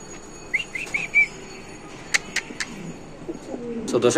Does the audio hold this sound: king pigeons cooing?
yes